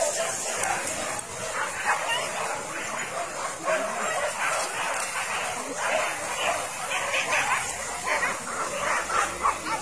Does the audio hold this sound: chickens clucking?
no